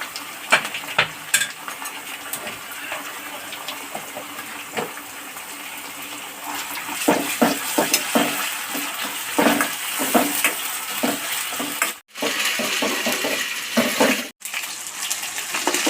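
Pigeon pieces frying in a pan with ginger-garlic paste, masala and onion, giving a steady close sizzle with scattered crackles and stirring clatter, briefly cut off twice.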